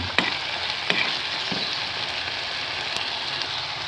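Pepper and salt sauté in hot oil in a pan for tokwa tuna, giving a soft, steady sizzle with a few light taps of a utensil, close and without talk.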